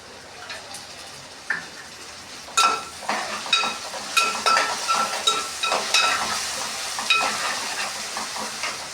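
Okra (bhindi) frying in a pan, with a steady sizzle and repeated sharp scraping and stirring clicks of a utensil against the pan, close and clear with no talking.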